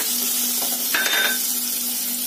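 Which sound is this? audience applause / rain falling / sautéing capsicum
sautéing capsicum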